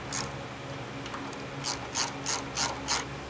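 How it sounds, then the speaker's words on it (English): A ratchet tightening transmission mount bolts during a TH400 to 700R4 conversion, giving several quick close clicking bursts in an even rhythm with no talk. "so then we can tighten up the mount bolts"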